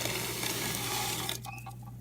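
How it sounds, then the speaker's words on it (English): Kosher salt, about two and a half cups, pours steadily into a pot of simmering water that is almost boiling, giving a continuous granular hiss that thins out toward the end into scattered small splashes and clinks. "Pour that into the simmering water."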